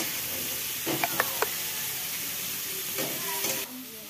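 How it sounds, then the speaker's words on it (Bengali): Food frying in a pan is stirred and mixed, a soft continuous sizzle with a few sharp scrapes and clinks of the spoon against the pan, close and fairly quiet. "দেখো এটা মিক্স করে দিচ্ছি"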